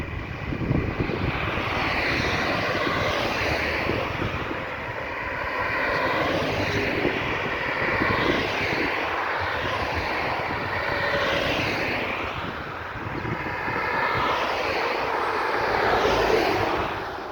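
A fixed-wing aircraft engine drones steadily near Grantley Adams International Airport in Barbados, a loud continuous roar that swells and ebbs slightly, with no talking over it.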